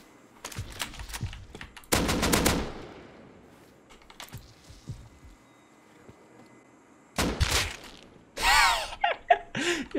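Gunshots in the survival game Rust, heard as a few scattered sharp cracks and then louder bursts of fire near the end, loud and close with quiet gaps between, no talk.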